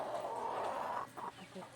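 A young chicken from a prize-winning brood clucks faintly while being tethered beneath a pomelo tree outdoors, giving a soft throaty call followed by a few short clucks.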